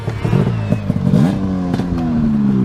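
A running snowmobile engine revs close by, its pitch climbing and falling through a couple of throttle blips before it settles into a steady high whine, with clattering mechanical noise underneath.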